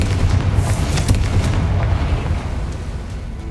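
A Confringo spell explodes in Hogwarts Legacy, a loud, dense boom with a rumbling low roar and crackling bursts that hold steady and then slowly fade.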